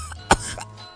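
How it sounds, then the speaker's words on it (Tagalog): One sharp, brief cough during a doctor's checkup in a comedy skit, close by with faint background hum. "Ala, sige, ubo."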